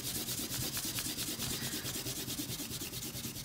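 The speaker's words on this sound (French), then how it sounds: "Alors on peut gommer les traits de construction" A pencil eraser rubs out construction lines on paper in quick, steady back-and-forth strokes, a close, continuous scratchy rubbing with no talk.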